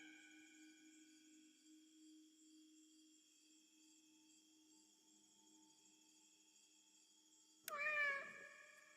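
A single short meow from a cat in the video game Indigo Park rises near the end, over a faint steady electronic hum and tonal game ambience.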